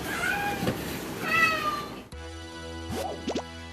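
A cat meows twice near the end, short rising-falling cries, after a stretch of busy background noise and rustling.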